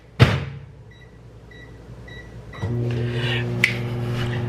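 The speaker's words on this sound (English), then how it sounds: "Microwave on high for 1 minute and 10 seconds." A kitchen microwave oven set to high gets a sharp door clack and a few keypad beeps, then starts up with a steady, close hum that runs to the end, with a small clunk partway through.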